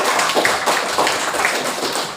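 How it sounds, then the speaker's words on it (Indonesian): Applause from students in a classroom lesson, a brisk burst of many hands clapping together, close and fairly loud, sustained evenly for a couple of seconds. "tepuk tangan dong buat yang bertanya dan menjawab"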